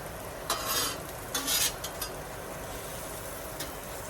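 Eggs fry on a very hot steel griddle with a steady close sizzle, broken by a few louder bursts of scraping and stirring from a spatula.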